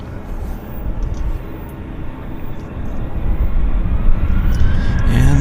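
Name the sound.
WestJet airliner taking off at Vancouver airport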